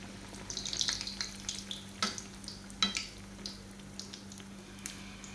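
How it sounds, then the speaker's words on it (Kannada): Rolled Mangalore bun dough goes into hot oil and fries with a quiet, crackling sizzle broken by scattered soft pops, heard close up with no talking. "ಈಗ ಎಣ್ಣೆಯಲ್ಲಿ ಬಿಡೋಣ."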